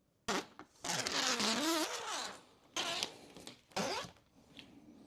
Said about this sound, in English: in this time you can undo the protective film of the 3M tape on the bottom